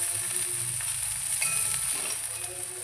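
Vegetables, such as sliced aubergine, frying in oil in a pan, a steady close hiss and sizzle with faint crackles throughout, no voices.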